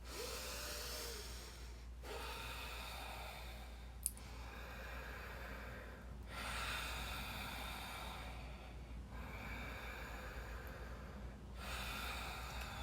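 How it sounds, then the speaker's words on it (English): Rapid breath work through the nose, inhaling and exhaling with no pause, heard as steady soft airy rushes in a continuous rhythm with a few brief clicks, close and alone. "breathing in and out through your nose with no pause between the inhale and exhale will be something like this"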